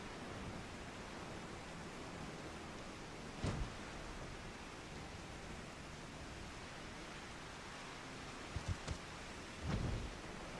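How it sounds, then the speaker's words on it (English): Steady rain hiss in a Final Fantasy XIV thunderstorm, with a few brief muffled thunder thumps around the middle and near the end, fairly quiet and constant throughout. "Wait for the storm to go away."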